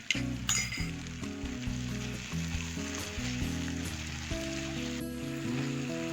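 Chopped onion and two medium tomatoes sauté in a pan for a king fish roast, giving a steady close sizzle that runs throughout beneath background music.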